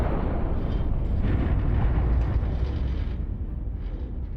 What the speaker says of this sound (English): Another good explosion.